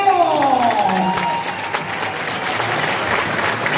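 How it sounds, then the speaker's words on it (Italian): Crowd applause rings out at an under-14 boys' basketball final honouring the Trentino regional team, steady clapping at close range with faint voices mixed in throughout. "facciamo intanto un grandissimo applauso alla rappresentativa del Trentino!"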